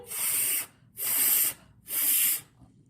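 A voice makes three long, breathy hisses with short pauses between them, imitating air escaping from a deflating inflatable fish, demonstrating the sound of the letter F.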